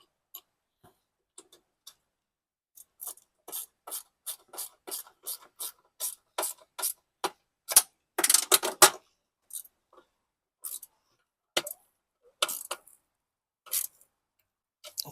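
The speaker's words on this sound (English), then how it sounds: "I've got my ratchet and a open end box wrench on the other side." A ratchet and open-end box wrench tightening battery bolts on a golf cart while installing distribution bars: rapid, crisp ratchet clicks in quick runs separated by pauses, close and quiet, with no talking.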